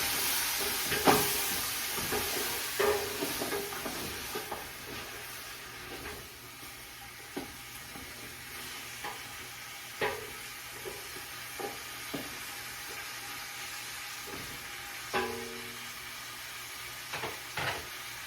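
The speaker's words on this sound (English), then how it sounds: "So we're searing this meat." Beef sears in a pot for canned steak and potato soup, a steady faint sizzle with scattered stirring clinks and scrapes spread over the stretch, no voices.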